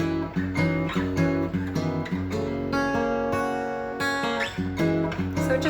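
A guitar plays the solo riff, a repeating sequence of picked notes ringing into each other in a steady phrase, clear and upfront with no talking.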